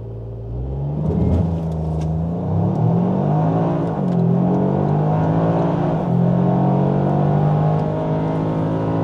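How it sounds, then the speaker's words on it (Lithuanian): A Toyota GR Yaris accelerates hard from a launch-mode start, its engine note rising in steady sweeps through the gears, loud and close throughout without any voices. "Aš galiu nuspausti akceleratorių."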